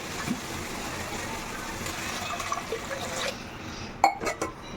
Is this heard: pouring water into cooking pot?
yes